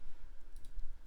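A computer mouse clicks a few times in quick, faint, light taps over a quiet low rumble.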